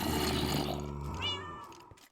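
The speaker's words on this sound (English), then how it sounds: "Don't you meow at me." A cat meows loudly and drawn-out, a single long complaining call up close, followed by a shorter, higher rising meow.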